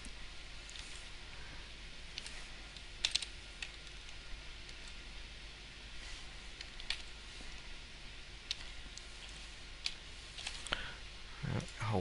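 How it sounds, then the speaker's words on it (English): A long password is typed on a computer keyboard in a run of faint, scattered key clicks with irregular spacing over a steady background hiss, with no talking. "It's a long password. Again, I have to type it."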